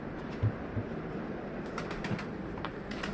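Pigeons around an outdoor feeding spot give soft wing flaps and faint rustling over a constant background noise, with a few quiet coo-like sounds.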